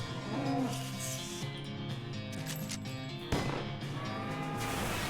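Cows moo in the West of Loathing video game, a few long, low, droning calls that overlap one another, with a sharp shift partway through and a steady game backdrop underneath.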